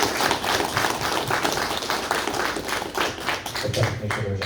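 An audience at an evening gathering applauds veterans who stand to be honoured, with dense, sustained clapping from many hands that stays loud and steady throughout.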